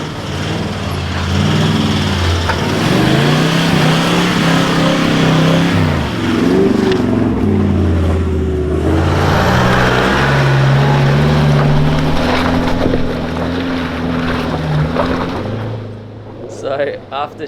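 A Suzuki Jimny engine revs hard and loud, climbing a steep off-road hill track in the Watagans of Australia; the roar swells and surges over many seconds with strain and wheel noise, easing near the end.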